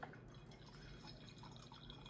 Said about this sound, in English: And then it seeps through.